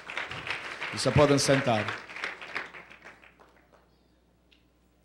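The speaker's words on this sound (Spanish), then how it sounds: "Dale un aplauso al Señor." A church congregation at a Spanish-language evangelistic service breaks into a short burst of applause that quickly fades, while a voice speaks over it and carries on after the clapping dies away.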